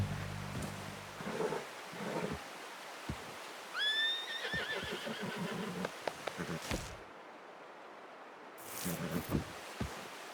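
A horse in the video game Red Dead Redemption 2 gives a clear whinny over a low outdoor hum, with buzzing insects and a few soft hoof clops around it and brief muffled bursts near the end.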